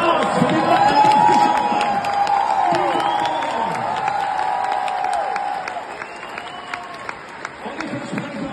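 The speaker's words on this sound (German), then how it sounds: "Ein großer Applaus für den Mann" A concert audience claps and cheers for a man, with dense applause loudest at the start and gradually thinning, mixed with crowd noise and sustained tones.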